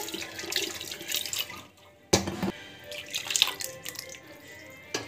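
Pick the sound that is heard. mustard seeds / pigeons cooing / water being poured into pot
water being poured into pot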